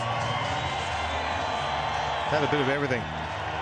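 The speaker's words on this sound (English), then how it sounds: "Raise your bat because you deserve this applause" A cricket crowd cheers and applauds a young batsman, Quinton de Kock, after a superb innings. The roar is a steady, dense wash of sound under a commentator's voice, swelling slightly near the end.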